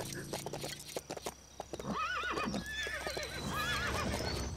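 Horse in the video game Lego City Undercover neighs loudly with a wavering whinny, preceded by rhythmic clip-clop trotting hooves, all close and without talk.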